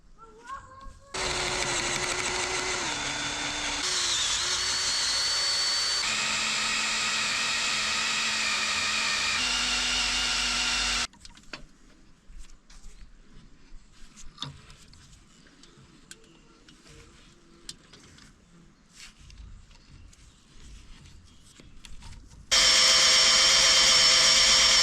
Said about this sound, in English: I'm an expert at using the wrong drill bit